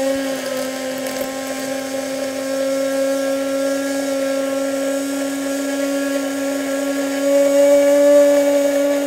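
An electric whisk or hand mixer beats melted butter into hollandaise sauce with a steady, high, close whine that holds for several seconds and grows slightly louder near the end, with no talk.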